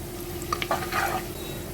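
Onion frying with bay leaf, cinnamon, cloves, cardamom, shahjeera and star anise for chicken haleem, a short soft sizzle with a few quick stirring scrapes.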